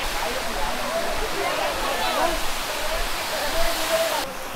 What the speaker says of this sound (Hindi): यहाँ से ये लेक का पानी इधर से नीचे आता है और यहाँ से फिर इस तरफ होते हुए आगे जाता है नीचे